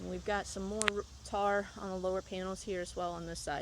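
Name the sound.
cicadas chirping on a summer day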